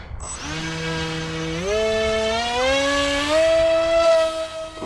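An Atomrc White Dolphin RC plane's electric motor with a 6-inch prop whines loudly and steadily, its pitch climbing in steps as the throttle opens, close and continuous.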